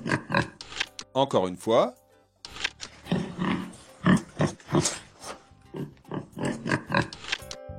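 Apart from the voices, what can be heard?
pig grunting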